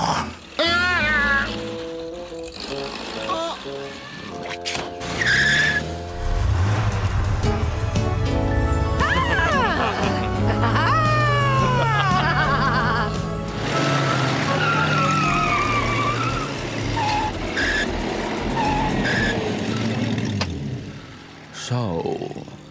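Cartoon car roaring away with squealing, skidding tyres, rising engine whines and screeching slides over several seconds, mixed with animated voices and music.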